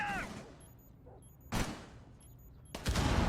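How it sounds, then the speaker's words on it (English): Two sharp bursts of rapid gunfire spraying at a barricade in Rainbow Six Siege, a first loud burst midway and a second near the end, with faint quieter game sounds between them. "Anaton now inside sprays to open up that barricade for a little bit of information"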